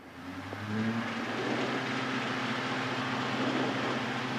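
Piper PA-28 single-engine light aircraft rising to takeoff power on the runway at Malta International, a steady close engine drone and propeller whir heard from inside the cabin with no talk.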